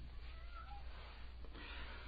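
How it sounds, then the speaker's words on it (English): A cat trapped inside a cold air return duct gives a couple of faint, muffled meows, hollow and distant behind steady low hum. "Your cat is inside the cold air return."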